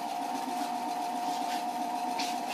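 A sewing machine stitches a quilt with a steady, even mechanical whir and rapid needle rhythm, running continuously at close range without talk.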